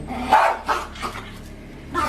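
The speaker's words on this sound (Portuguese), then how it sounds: "Esse cachorro a gente teve que ter ficado umas 2 horas lá" Barks from a large dog in poor condition, rescued from inside a conservation area, come in several short separate bursts, fairly close and moderately loud, with no talking over them.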